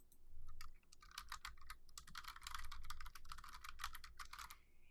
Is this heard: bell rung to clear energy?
no